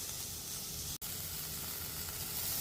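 Vegetables fry over a high flame for Schezwan fried rice, giving a steady, close sizzling hiss that cuts out for a brief instant partway through.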